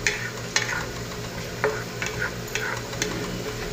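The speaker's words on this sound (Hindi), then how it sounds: "ये आप देख सकते हैं मेरी भिंडी अच्छे से फ्राई हो गई है" Okra frying in a pan for an aloo bhindi dish, with a steady soft sizzle and a few light scrapes or stirs of a utensil scattered throughout, fairly quiet with no talking.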